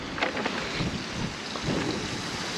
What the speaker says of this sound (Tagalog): Hangin, ayan no.